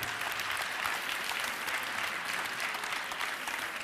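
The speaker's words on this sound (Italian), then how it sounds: "un applauso, un applauso anche a voi" A TEDx audience in Trento breaks into full, continuous applause, a dense wash of many hands clapping at an even level throughout.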